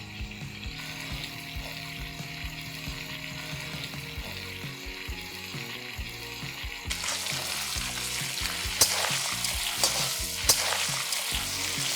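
Mutton and torn whole chilies sizzle in a pan as they are stirred, a steady loud crackling fry with clattering stirring that grows busier and brighter partway through, no voices.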